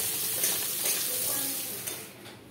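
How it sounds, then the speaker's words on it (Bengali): Potato pieces with turmeric stir-frying in mustard oil in a karahi, a loud continuous sizzle with scraping stirs and light clinks of a spatula against the pan, no voices. "এটা আমি হলুদ দিয়ে এবার ভালো করে দিয়ে আমি এটাকে নেড়ে নেড়ে ভেজে নেব।"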